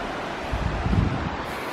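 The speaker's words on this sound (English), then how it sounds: "the sound of a river flowing" A river flows beside a New Zealand walking trail, a steady, full rushing wash close by, with gusty rustling over it and no talking.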